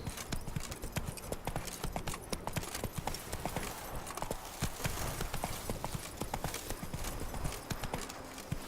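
Hooves of the horse Roach clatter in a fast gallop, a close, busy clip-clop pattern of sharp strikes repeating without pause over several seconds.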